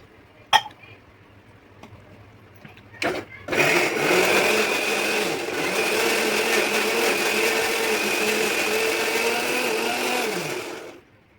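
A mixer grinder whirs steadily at high speed grinding masala for several seconds after a few short clicks and bumps, then cuts off abruptly.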